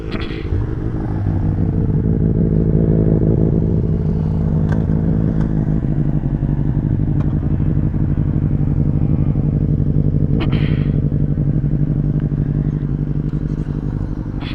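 A BMW F 850 motorcycle engine idles steadily up close, a continuous loud rumble with a low throbbing tone that holds for the full stretch, with a few faint clicks on top.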